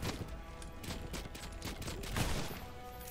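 Ship cannons fire in the pirate game Blazing Sails, a rapid volley of booming shots and impacts layered over a low rumble, with a heavier blast near the end.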